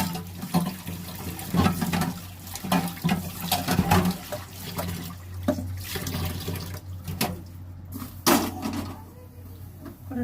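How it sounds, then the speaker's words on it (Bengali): Tap water runs into a sink while a wok (kadai) is washed, with splashing, scrubbing and occasional metallic knocks of the pan, near and continuous. "এবার কড়াটা একটু ধুয়ে নেব"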